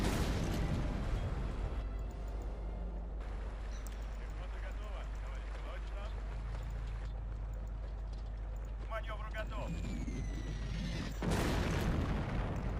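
Enemy artillery shells bursting in the war game Hidden Stroke 2, heavy booms under a constant rumble of battle, with a loud blast near the end and someone talking over it.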